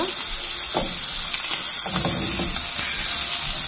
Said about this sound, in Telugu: మీకు ఇందులో అసలు ఫిష్ ఫ్రై లో ఆయిలే ఉండదు, చాలా మినిమం ఆయిల్.